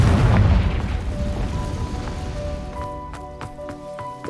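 Confringo explosion spell cast in the video game Hogwarts Legacy, a loud low boom that rolls off over a few seconds and gives way to game ambience with tonal chimes and short clicks.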